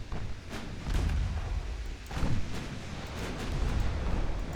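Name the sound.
shell impacts on warship in naval video game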